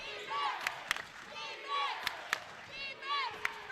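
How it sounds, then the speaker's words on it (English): A high school boys' basketball championship crowd at Doane Academy cheers loudly in swelling waves, with sharp shoe squeaks and ball thuds cutting through the roar of the gym. "And the Doane crowd gets loud"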